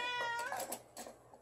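A cat meows a few times, short rising and falling calls, fairly soft and close, with no talking.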